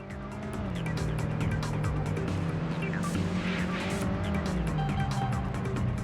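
A car oversteers under throttle in the PlayStation racing game Vanishing Point, with a loud, steady engine drone and tires squealing through the slide, continuous for about six seconds with no talk.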